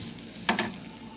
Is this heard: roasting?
yes